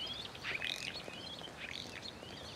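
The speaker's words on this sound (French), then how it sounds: "Entends-tu des gazouillements mélodieux parmi les bruits de la ville?" Starlings twitter and chirp in a busy, high-pitched chatter, fairly faint over a low background hum of the city.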